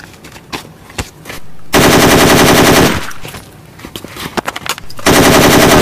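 Bursts of rapid automatic gunfire from a shooting video game, loud and close, with two long sustained volleys separated by quieter scattered shots, and no talking.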